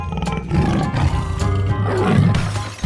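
A tiger in a 3D animal video game lets out a loud, close roar with growling, rumbling texture that swells and trails off over a few seconds, with music-like tones behind.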